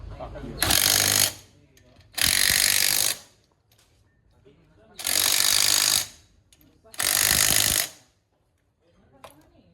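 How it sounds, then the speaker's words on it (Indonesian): Four loud bursts of a pneumatic impact wrench, each about a second long, loosening the drum brake of a three-wheeled motorcycle, separated by pauses of near silence and faint workshop clatter. "Kita ambil impact dulu."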